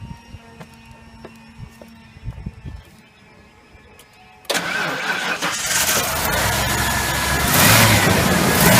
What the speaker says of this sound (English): That was probably one of the weakest V8 startups I've ever heard in my life.